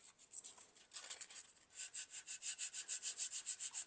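Light hand sanding of smeared super glue on the back of a plastic car A-pillar trim piece, heard as close, quiet rhythmic rubbing strokes that settle into a steady, even back-and-forth pattern.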